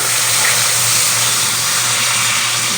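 Water hits hot sugar caramel in a pan and produces a loud, continuous hissing, bubbling rush that holds steady without pause, with no voices.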